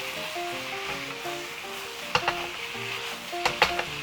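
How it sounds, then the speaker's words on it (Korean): Garlic chives are tossed briefly into a hot pan with pork, a soft continuous sizzle with a few sharp spatula clacks against the pan near the end, close and without speech. "부추 준비해놨던 거 푸짐하게 넣어서 살짝 볶아주는 거예요"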